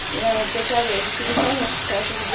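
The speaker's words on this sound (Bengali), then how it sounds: "এটা দিয়ে জাস্ট 1 থেকে 2 মিনিট ফ্রাই করবো" Chilli chicken sauce with onion and capsicum fries in a pan, giving a steady bright sizzle and hiss, while a voice talks over it.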